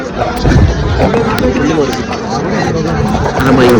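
A dense crowd packs a bullock cart race, a loud close hubbub of many overlapping voices and chatter filling the air continuously, with shouts rising out of the babble.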